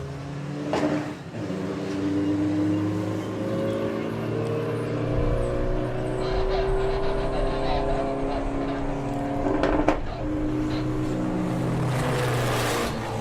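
VW Beetle drag racing at the Greenlight Nationals 2024 VW eliminations, engines droning and revving hard down the strip with shifting tones and a couple of sharp gear-change bursts, loud and sustained throughout.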